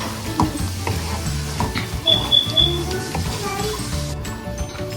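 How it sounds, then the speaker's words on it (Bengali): Onion and spices sizzling in a pan while a utensil scrapes and stirs in irregular strokes, close and moderately loud, with a voice and some talk in the background. "তবে এটাকে একটুখানি হালকা ভাজা ভাজা করব।"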